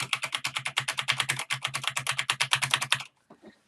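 Rapid typing on a Corsair K95 Platinum mechanical keyboard: a fast, even run of crisp, loud key clacks for about three seconds, then a stop and a couple of faint stray sounds.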